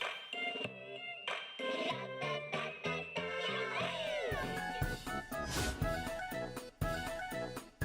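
A cartoonish cat character in a video game gives several short meows and a drawn-out caterwaul, mixed with bright game music and sound effects.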